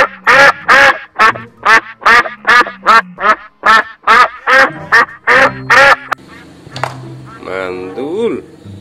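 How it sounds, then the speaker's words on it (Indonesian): Duck quacking in the Jurassic World Evolution 2 video game, a loud close run of about a dozen rhythmic nasal quacks, followed by a man's speech. "Wow, ada bebek."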